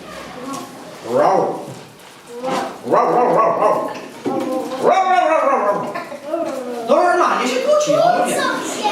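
A person imitates a dog, barking and yipping in a string of playful woofs and whines, loud and close.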